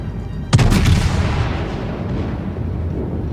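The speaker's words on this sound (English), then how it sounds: "Let's put those back guns in on this guy." Warship guns firing in the World of Warships video game, a single loud booming salvo with a sharp onset that rolls and fades into a sustained low rumble, no voices.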